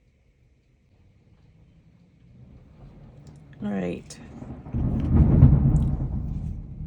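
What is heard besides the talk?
thunder during a thunderstorm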